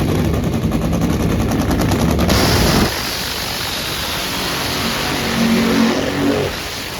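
A drag race car launching at Maple Grove Raceway during Reading Nationals qualifying: a loud, harsh engine roar with crackling, machine-gun-like bursts that drops to a lower rumble partway through, then swells briefly again near the end.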